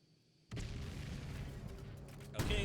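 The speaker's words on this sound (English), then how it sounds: "Okay, that explosion was a little delayed." A delayed explosion in the video game Alan Wake's American Nightmare, a sudden booming burst that settles into a sustained, fairly quiet rumble for about two seconds before another hit lands.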